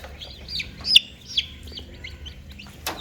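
Baby chicks give high, thin peeps in short scattered bursts, close and fairly clear against a soft low hum, with a few brighter cheeps standing out.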